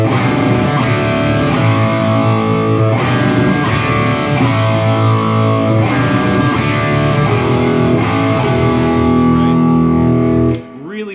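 Distorted electric guitar playing a chugging power-chord riff from a 1971 song, loud and continuous with sharp rhythmic accents, ending in a brief bending squeal.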